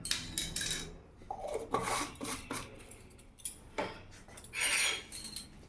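Batter ingredients with baking powder being stirred in a bowl for a cauliflower patishapta, with repeated scraping and clinking of a utensil against the bowl, close and moderately loud, in uneven bursts with brief pauses.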